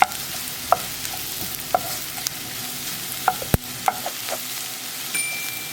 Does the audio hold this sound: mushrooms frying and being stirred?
yes